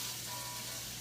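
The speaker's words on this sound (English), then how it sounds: "If you can hear it sizzle, you know it's really hot." Vegetables sizzle in very hot oil in a pan, giving a steady, even, close crackling hiss that lasts the whole second without any voices.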